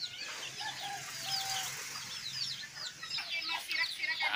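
A hen clucks softly among her four chicks, with high, thin peeping and chirping coming in scattered bursts through a quiet rural backdrop. Some faint wing flapping is heard, and the clucking grows busier toward the end.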